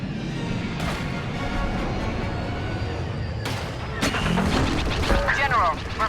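Blaster and artillery fire from a Star Wars Battlefront II battle: a few sharp booming bursts over a continuous rumble of combat, growing heavier and busier toward the end.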